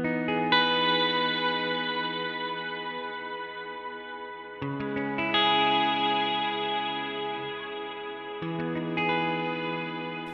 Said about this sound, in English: Just doing this little trick, I think, makes the reverb sound so much better